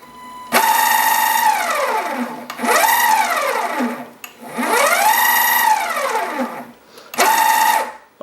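A DIY electric longboard's hub motor spins one wheel under remote control, giving a loud whine that sweeps up and down in pitch across four bursts, separated by brief quiet gaps as it is throttled and braked.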